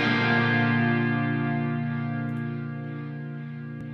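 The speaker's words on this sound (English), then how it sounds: "I reamped it with just a chorus pedal, like a Boss chorus pedal, just very low gain" Guitar reamped at very low gain through a Boss chorus pedal, then sent to reverb and a delay trail, rings as a sustained chord that slowly decays with shimmering modulation across the whole four seconds, alone with no talk.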